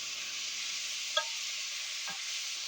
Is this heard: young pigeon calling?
no